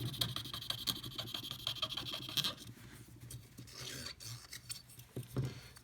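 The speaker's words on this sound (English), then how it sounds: "just give the pins a good scrub as well" Close, rhythmic rasping scrub as the gold contact pins of a Nintendo 64 Mario Party 2 cartridge board are cleaned, steady strokes repeating for several seconds with no voices.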